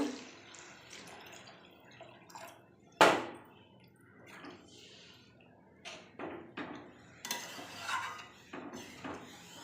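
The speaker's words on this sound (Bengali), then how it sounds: "ডাল দিয়ে কষিয়ে নিলাম কিছুক্ষণ, এবার জল দিয়ে দেব।" Water splashes into a pot of red lentils being cooked with chicken, with a sharp clank of metal utensils against the pot, then drips, stirring and scattered kitchen clatter nearby.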